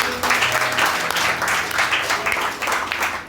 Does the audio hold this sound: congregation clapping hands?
yes